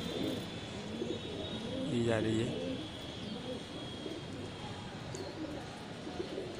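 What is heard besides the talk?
pigeon cooing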